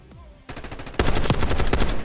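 Automatic gunfire in Black Ops 6 Kill Order mode, with a faint shot early, then a dense burst and heavier, louder rapid fire that continues to the end.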